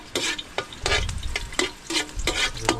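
Garlic sautéing in hot oil for adobo, a sizzling fry broken by repeated stirring scrapes in a quick, regular rhythm, close and moderately loud with no talk.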